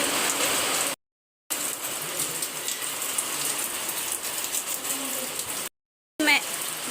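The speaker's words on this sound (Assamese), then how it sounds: "আজি বৰষুণ আহি গ'ল ফাইনেলি।" Steady rain falls during Assam's rainy season, a dense continuous patter filling the clip, briefly cut out twice, with a voice faintly present.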